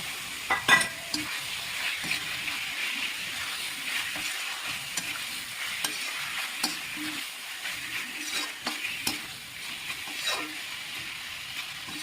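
Chicken with curd, turmeric and tomato sautéing in a pan for a home-style chicken gravy: a soft, steady sizzle with occasional louder scrapes and clanks of a spoon stirring, close and without speech.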